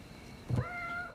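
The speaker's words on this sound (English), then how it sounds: "Interrupted by the cat." A house cat lets out a single short meow, fairly close and clear, standing out against quiet room background with no talking.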